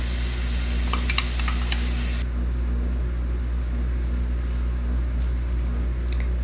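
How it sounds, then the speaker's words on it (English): Ground beef browning in a pan for enchiladas: a steady, close hiss of sizzling fat with a low hum beneath, and a few faint clinks of a utensil early on. "We're going to start by just browning the beef, and then we're going to add the onion."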